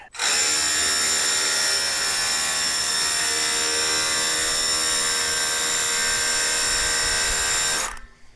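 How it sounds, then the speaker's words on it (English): A power drill whines loudly and steadily for nearly eight seconds, a continuous high mechanical drone close to the microphone, with no talking. "if I can just take this hammer drill and push it."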